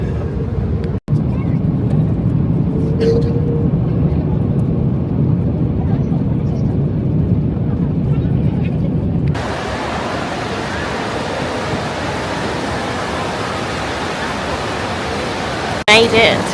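Steady broadband airliner cabin roar during the descent into Orlando, Florida, loud and continuous, with a brief thump near the start and a shift to a thinner, hissier rush partway through.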